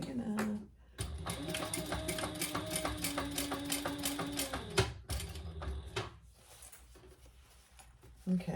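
Domestic sewing machine stitching interfaced cotton for a laptop bag, a steady rapid mechanical whir running for several seconds with brief stops and restarts, close and moderately loud.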